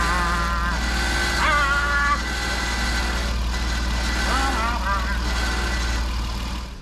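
A 2009 Jeep Wrangler Rubicon idles with a steady low engine hum during a radiator replacement, while people talk over it throughout.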